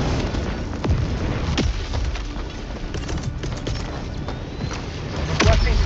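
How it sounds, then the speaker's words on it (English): Sentry drop in Helldivers 2 on a Terminid mission, a series of heavy booms and sharp impact blasts spread through dense battle noise, loud and close, with a voice talking over it. "Calling down a sentry."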